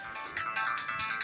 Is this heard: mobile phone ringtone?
yes